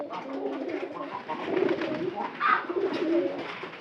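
Pigeons coo close by in a farm house, soft throaty rolling calls that overlap in an uneven chorus with brief louder swells.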